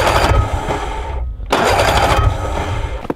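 A flooded snowmobile engine cranks over and over without catching, a loud, rough, continuous churning that breaks off briefly and then picks up again, heard up close outdoors with no one talking.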